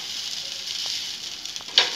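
Ravva uttapam sizzling steadily on a hot pan after being flipped, a close, even frying hiss with a few soft taps near the end.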